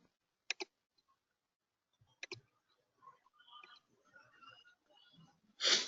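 Sharp computer mouse clicks while working in SAP software: a quick double click, a pause, then another double click, followed by faint scattered desk and keyboard noises and a louder rustle at the end, close and dry.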